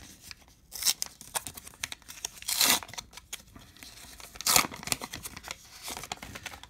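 A 2021 McDonald's Happy Meal Pokemon card booster pack wrapper is torn open by hand, with several sharp ripping bursts mixed with crinkling foil, close and fairly loud, no talking.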